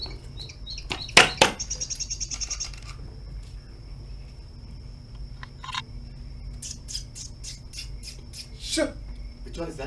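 Wild songbirds chirp in a quiet outdoor setting, with a burst of repeated bright calls early, a sharp rapid series later and scattered faint tweets in between, over low background rumble and brief human murmurs.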